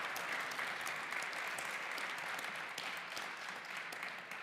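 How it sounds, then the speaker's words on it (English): Audience round of applause after a history talk, fairly faint but dense and even clapping from a room of listeners, steady throughout. "can we have a round of applause for Rona"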